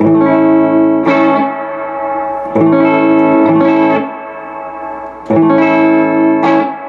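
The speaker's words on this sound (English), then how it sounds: "It's a long tank reverb, spring reverb." Distorted guitar chords through a Mesa Boogie Mark V 35 amp ring out in bursts, each trailing into a splashy, washy long-tank spring reverb tail; loud and close, no talking.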